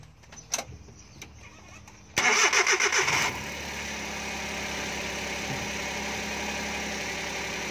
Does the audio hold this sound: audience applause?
no